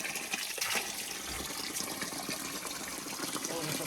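Water rushes and gurgles steadily among and beneath rocks along a roadside near Taroudant, a continuous close-up flow with someone speaking over it.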